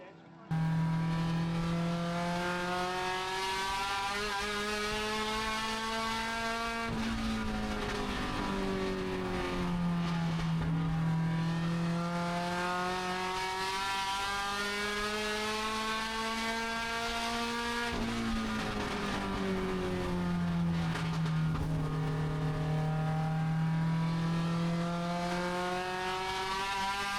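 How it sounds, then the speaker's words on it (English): Race cars lap Sandusky Speedway at night, their engines a loud, continuous drone that swells and sags in pitch as the pack sweeps past, with cars overlapping throughout. "One more lap to close up the Morrison."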